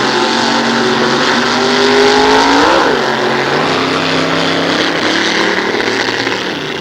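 Junior fuel drag race cars at the 1993 Goodguys Nostalgia Drags at Sears Point, a California car against an Oregon machine, roar loudly and steadily, with engine pitch sliding downward partway through, and no talk.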